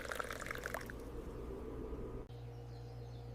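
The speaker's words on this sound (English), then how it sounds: "I pour the hot water into the mug." Hot water pours into a mug for tea, a soft liquid splash at first that settles into a quiet, steady trickle, close and faint against a low background hum.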